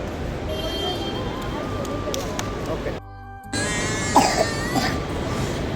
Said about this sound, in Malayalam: ചുമയാണ് എല്ലാവർക്കും